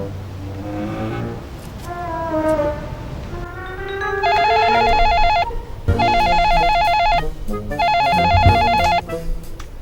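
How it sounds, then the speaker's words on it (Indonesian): A telephone rings loud and close in three long electronic trilling bursts, following sliding tones and background noise in an Indonesian comedy scene. "Apa pula dia telepon aku ini?"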